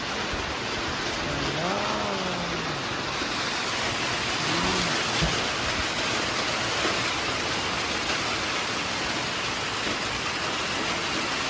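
Heavy, wind-driven rain roars steadily and loudly, a dense wash of noise with a few faint rising tones near the start.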